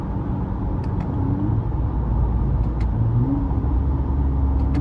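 A tuned Toyota Camry XSE V6 engine drones steadily from inside the cabin, a low continuous rumble with slight rises in pitch as it pulls, and a few faint clicks.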